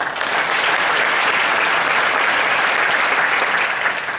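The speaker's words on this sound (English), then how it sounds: "So give them a round of applause." Steady, loud applause from the crowd at a school district's State of the District address, honouring scholarship students; dense, even clapping fills the whole stretch without any speech over it.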